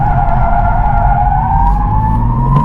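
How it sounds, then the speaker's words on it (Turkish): A loud, sustained high-pitched squeal of tyres on pavement, rising slightly in pitch, over a low engine rumble. "Buradaki cayırtı sesi tekerleğin yol yüzeyi ile sürtünmesinden kaynaklanır."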